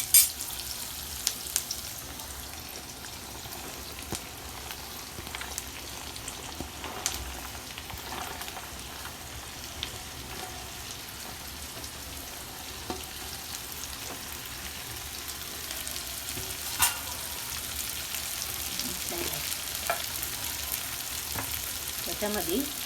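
Okra tossed into onions already frying in a home kitchen pan sizzles steadily at close range, with scattered crackles and occasional scraping taps, and no talking.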